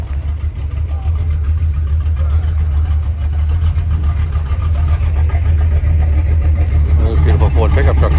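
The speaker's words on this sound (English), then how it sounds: "There's a beautiful Ford pickup truck coming in." A Ford pickup truck's engine rumbles steadily as it rolls into a Cars and Coffee car show in Tucson, a loud continuous low drone with crowd chatter and voices throughout.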